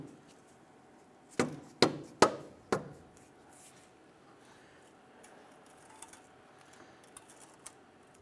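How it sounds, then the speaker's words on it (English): Dead blow hammer tapping a control arm bolt into place on a 2015-2020 Cadillac Escalade, four sharp knocks in quick succession, then faint scattered clicks. "you can use a dead blow hammer. Go ahead and tap it in so you're not beating up your hands."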